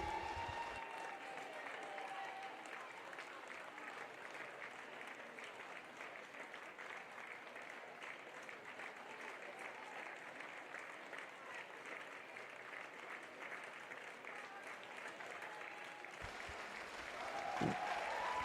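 Crowd steadily applauding and cheering at a regional rowing race, sustained clapping for the whole stretch, fairly distant, with a burst of noise near the end.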